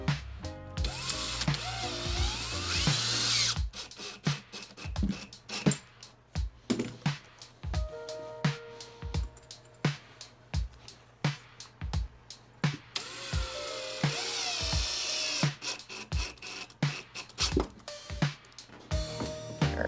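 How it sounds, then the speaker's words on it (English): A power drill drives screws into a drywall patch with sharp ratcheting clicks and short motor bursts, loud and close, in repeated spurts. "We're going to screw this sucker in."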